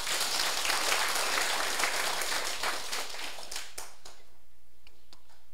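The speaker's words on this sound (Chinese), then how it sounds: "大家为家己鼓掌者" An audience claps together at a closing ceremony of a senior administrative seminar, the applause full and sustained before thinning out, leaving a few scattered claps and small ticks in a quiet room.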